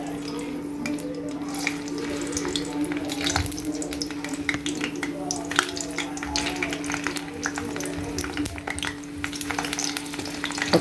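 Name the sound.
eggplant frying in hot oil in a pan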